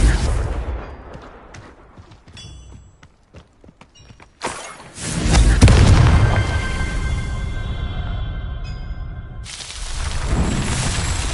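Hogwarts Legacy's Confringo fire spell detonates as a loud booming blast that rumbles and crackles for several seconds. Scattered clicks and footsteps come before it, and a second surge follows near the end.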